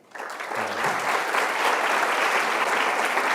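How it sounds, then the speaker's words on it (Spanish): Dense audience applause at an academic event on communication, the UNESCO Chair lecture, starting abruptly and holding steady as a continuous, loud wash of many hands clapping with no talk over it. "Les pido un aplauso muy especial."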